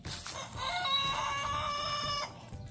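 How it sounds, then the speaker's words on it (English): A Silkie rooster lets out a single drawn-out crow, loud and close, lasting about two seconds, with soft ambient farmyard noise around it. "Our rooster is crowing."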